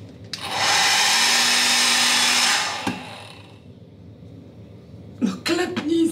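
A hair dryer set to strong hot airflow blows loudly for about two seconds with a steady whooshing roar, then switches off, followed by quiet room noise and a few brief handling thumps and rustles.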